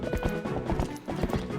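Horse hooves clip-clopping in the video game Zelda Twilight Princess, a quick steady run of close hoof beats.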